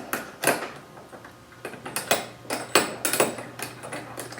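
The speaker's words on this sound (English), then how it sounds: "just punch it out with a punch" Metal punch struck with a hammer to drive out a tuning key from a 1914 Gibson L-1 guitar: a series of sharp, irregular metallic taps, about a dozen blows in uneven clusters, close and clear.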